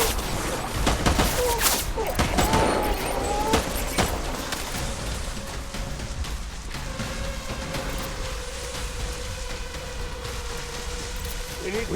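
Gunfire in the video game Death Stranding: dense bursts of sharp shots crowd the first few seconds, then thin out over a continuous noisy rumble, with voices mixed in.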